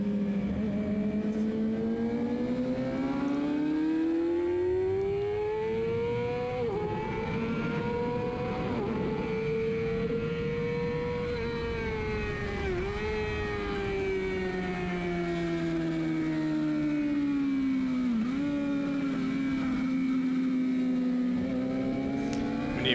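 Racing motorcycles in a WERA Senior superbike race lap the track at Barber, the nearby engine screaming in a sustained high-rev whine that climbs and dips with each gear change and corner, loud and continuous with no talk.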